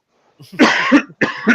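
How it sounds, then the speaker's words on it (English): Two harsh coughs in quick succession, close and loud, with a short pause between them. "I can't believe I'm coughing, bro."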